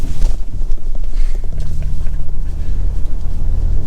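2024 Ford Ranger Raptor midsize truck driven fast over bumps, a loud, close, continuous rumbling engine roar with jolting low thumps throughout.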